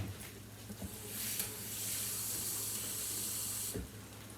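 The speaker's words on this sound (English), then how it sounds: "I'm going to put more water in it because I don't want it to get all stuck together." Water is poured into a pot of simmering ham, a soft hiss rising to a steady rushing pour that lasts a couple of seconds and then stops abruptly, quiet and close.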